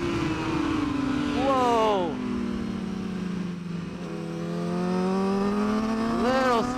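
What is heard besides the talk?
motorcycle engine accelerating in a MotoGP racing video game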